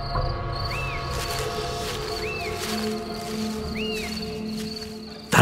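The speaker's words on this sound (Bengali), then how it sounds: "আবার সেই ঝিঝির ডাক।" Crickets chirp as a sound effect in a Bengali radio detective drama: a steady, fairly quiet insect trill with a few rising whistle-like calls, ending in a sudden thump.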